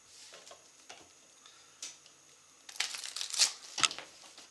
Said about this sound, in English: I'm going to give it one more good shuffle.